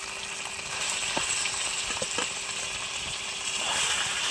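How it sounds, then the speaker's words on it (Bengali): Seeds drop into hot oil in a kadai, which already holds ginger paste. A steady, moderate sizzling hiss runs throughout, with a few scattered crackles and pops. "এবার আমি এই যে বীজটা দিয়ে দিচ্ছি তেলের মধ্যে"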